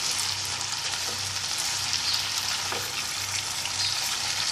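Broccoli and eggplant frying in a pan for a Bangladeshi-style vegetable dish, a steady bright sizzle with soft scraping as the vegetables are stirred.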